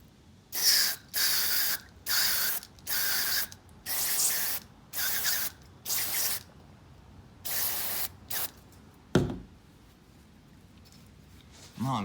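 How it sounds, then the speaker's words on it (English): Repeated bursts of aerosol cleaner sprayed onto the mass air flow sensor of a 2005–2015 Toyota Tacoma, about nine short hissing blasts in an irregular rhythm, close and fairly loud, followed by a brief clatter and quieter handling noises. "So I'm gonna try to spray those off."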